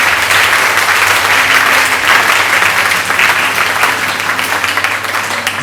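A church congregation clapping together during a sermon, a loud, dense, sustained wash of applause filling the whole stretch and tapering slightly at the end.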